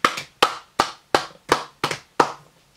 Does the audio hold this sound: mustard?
no